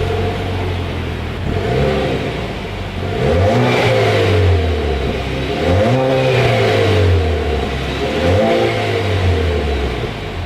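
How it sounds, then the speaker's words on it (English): A 2019 Chevrolet Camaro turbo is revved repeatedly through its exhaust, several rising and falling engine sweeps in a steady rhythm, loud and close with no talking. "As always, here is that exhaust clip."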